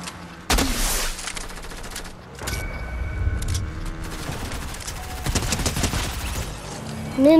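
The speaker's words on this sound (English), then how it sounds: "Who's shooting?" Gunfire in a video game match, bursts of rapid automatic shots and sharp single cracks in clusters, loud in places, with game sounds and brief voices mixed in.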